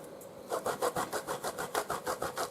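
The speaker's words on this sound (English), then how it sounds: "Grate some of your beef over the top, or you can grate cheese." Beef being grated over the top of a pizza, heard as a steady rasping of about a dozen quick, even scraping strokes, close and clear with no voices.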